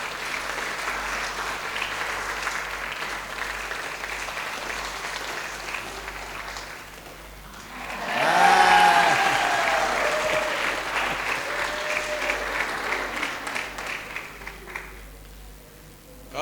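Wedding guests applauding as the bride's veil is lifted, a steady wash of clapping that swells sharply midway, then settles and fades, with a sweeping high tone and faint voices in the room.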